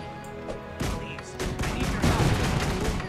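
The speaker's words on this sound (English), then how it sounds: "Shooting this damn cannon." Cannon firing in the video game Guild Wars 2, a rapid series of booming shots and blasts that build in loudness and keep going with rumbling impacts.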